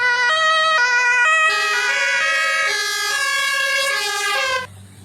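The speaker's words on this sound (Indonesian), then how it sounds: "Yang ini ambulan." A toy ambulance siren plays a loud, continuous electronic wail that steps between pitches, close by and alone, with no talking.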